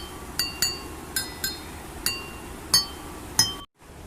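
A glass containing water is struck again and again, giving about seven bright clinks at uneven intervals, each with a short ringing tail, close and alone with no talk.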